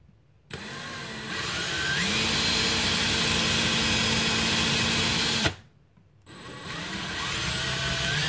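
A power drill bores into a brass breech for a Nerf Retaliator, running in a loud sustained whine for about five seconds, cutting out briefly, then starting up again.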